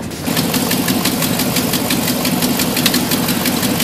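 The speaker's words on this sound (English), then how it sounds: "the truck's a little loud, a little exhaust leak" A Silverado truck engine with an exhaust leak idles loudly and close by, its rough, rapid puttering exhaust ticking in an even rhythm throughout.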